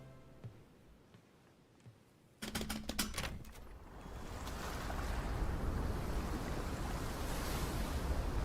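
Ocean waves in a Pokemon Presents trailer: a brief burst of bright musical tones, then a steady, rising wash of surf and wind filling the rest, with no speech.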